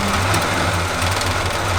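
A 1984 Chevy K20 truck engine idles steadily right after starting, a loud, close, even rumble with no talking.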